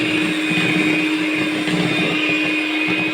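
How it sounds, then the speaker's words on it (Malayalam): An electric mixer blends maida batter with a continuous, steady whirring drone that holds at an even, loud level throughout, with no talk. "നമുക്ക് ആദ്യം നന്നായി ഒന്ന് മിക്സ് ചെയ്തെടുക്കാം"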